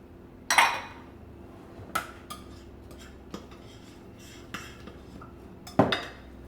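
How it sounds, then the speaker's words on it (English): Psyllium husk, flax and cinnamon added to a bowl for a keto nut mix, several sharp clinks of a spoon or measuring cup against the bowl spaced out over a few seconds. "I'll put the psyllium husk, flax and cinnamon into the bowl as well"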